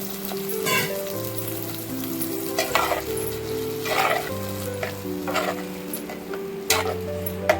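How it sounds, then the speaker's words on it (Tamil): Tomato paste frying in oil in a clay pot for a village-style dry fish kuzhambu, a steady sizzle broken by stirring scrapes and clinks, with a low music-like drone underneath. "தக்காளி நல்லா பச்சை வாசனை போகிற வரைக்கும் இந்த எண்ணெயிலே நல்லா வதங்கட்டும்."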